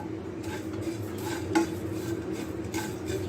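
Whole garam masala spices and cumin seeds are dry-roasted in a pan, with repeated scraping and light metallic clinks from a stirring spoon and a faint sizzle, close and steady, without speech.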